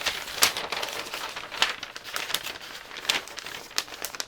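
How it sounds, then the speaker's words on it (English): Sheets of paper pattern for a front bodice draft being folded and crinkled by hand, a close run of papery crackles and crumples with sharper rustling bursts scattered throughout, no talking. "I am going to fold away my paper along my front bodice draft"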